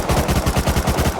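Rapid automatic fire from an MP5 submachine gun in Rust Console Edition, a steady stream of close, loud shots at an even cadence. The burst runs for the whole moment with no talking.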